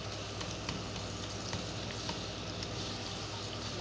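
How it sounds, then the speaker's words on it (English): Butter melting in a pan on the fire makes a soft, steady sizzle with faint ticking pops, quiet and close, with no talk. "Allow your butter to melt before adding onion."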